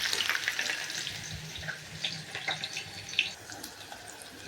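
Chopped onion and garlic sautéing in oil with mustard seeds for brinjal kuzhambu: a steady, bright sizzle with scattered crackles and light stirring, close and unaccompanied by talk.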